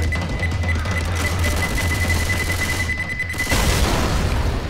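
A pipe bomb detonates in Left 4 Dead 2 amid a zombie horde, a loud booming blast with crackling gunfire and a continuous electronic tone that cuts off before a final burst of noise.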